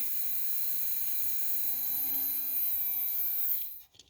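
A small electric motor in a Schaper Stomper toy whirs at high speed, a steady whine that holds for several seconds before abruptly cutting off at the end.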